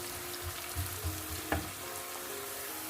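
Onions sizzle steadily in a pan while frying for a kaleji liver dish, a soft continuous crackle with a few low bubbling pops and a brief sharper spit midway, close and moderately quiet.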